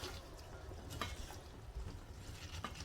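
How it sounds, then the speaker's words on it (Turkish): Salt stirred into green beans and meat frying in a pan, giving a steady close wet sizzle with soft scraping and stirring clatter throughout. "Daha sonra üzerine tuz atıyoruz ve karıştırıyoruz"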